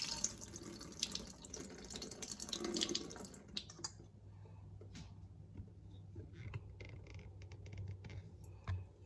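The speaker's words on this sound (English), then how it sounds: "And so I wash it in 2 to 3 waters." Rice is washed in a sink under a running tap as part of a home-style Indian meal, with steady splashing and rushing water, some scraping and dripping, at close range and with no speech.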